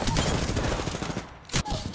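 Close gunfire in the Apex Legends video game, a dense rattle of shots filling the clip with a sharp burst near the end, while a player's voice talks underneath.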